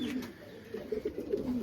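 Racing pigeons in a New Zealand loft give soft, low, throaty coos in a brief burst, close and fairly quiet, with no talking.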